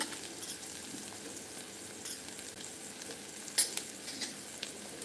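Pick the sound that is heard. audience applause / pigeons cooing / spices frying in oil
spices frying in oil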